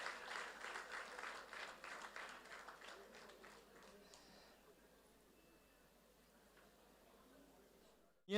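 A community hall crowd at a Kutchi Kadva Patidar Samaj children's award ceremony in Mumbai claps for the parents, a burst of applause that thins and fades into scattered claps, faint and distant.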